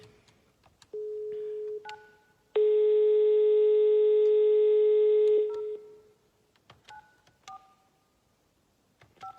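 A telephone call to an unreachable subscriber gives a short steady tone, then a longer, louder buzzing tone lasting about three seconds, followed by a few brief beeps in a quiet line.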